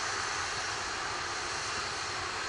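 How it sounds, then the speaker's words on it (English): An RD-180 rocket engine thunders during a satellite launch, heard as a continuous, dense, distant roar with no breaks, steady and broadband throughout. "RD-180 has throttled back up as planned."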